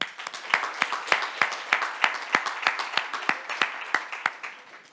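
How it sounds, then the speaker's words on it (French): Gala awards audience at a Montreal tech ceremony applauds in steady, rhythmic unison, a regular beat of synchronized claps holding for about five seconds before easing off. "On les applaudit."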